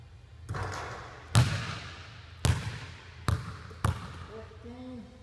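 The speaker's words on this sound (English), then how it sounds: "15 hit the rim, but went in." A basketball shot clangs off the rim and drops in, followed by a few sharp bounces on a hard court, each thud decaying quickly, with a voice murmuring faintly near the end.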